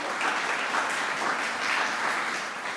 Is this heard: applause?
yes